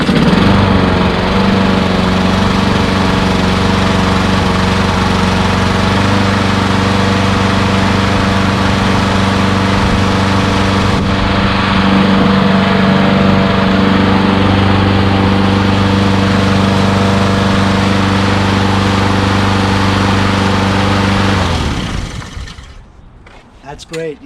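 A Troy-Bilt push lawnmower with a Honda GCV160 engine, once a no-start trash find, runs loud and steady close by, a constant buzzing drone that cuts off near the end.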